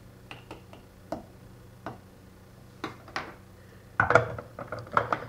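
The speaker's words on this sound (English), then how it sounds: "I'm mixing the onions and the cilantro now, while there's more space for doing the mixing" Onions and cilantro being mixed in a jar for herbs in oil, heard as a series of light, sharp clicks and taps against glass, spaced irregularly and then bunching into a busier clatter near the end, close by with no talk.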